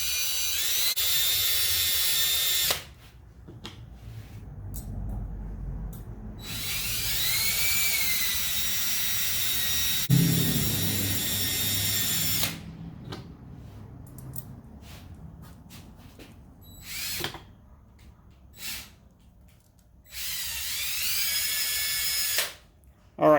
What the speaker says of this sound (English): And now I can just hold the nut on the end and spin the drill.